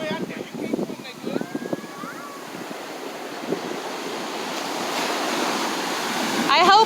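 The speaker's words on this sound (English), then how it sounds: "I just wanted to show you guys the ocean, how pretty it is here in sunny Southern California." Ocean surf at a sunny Southern California beach rushes steadily and grows louder toward the end, with wind buffeting the microphone and a person speaking over it at the start.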